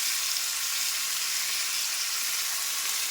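Tomatoes frying in a cast-iron kadai, a dense steady hiss of sizzling oil running loud and close without a break, no voices.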